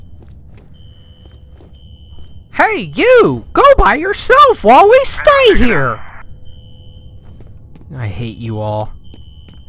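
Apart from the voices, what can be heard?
fire alarm ringing in video game F.E.A.R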